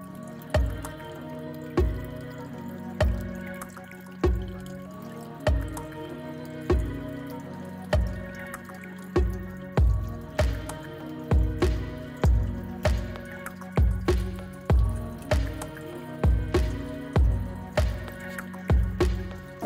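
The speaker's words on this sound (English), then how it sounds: "the water was still dripping too close to the edge of our basin" Water from a small waterfall in a tegu terrarium drips into a basin in repeated, fairly regular splashing plops, close and clear over a faint trickling background, with no talk.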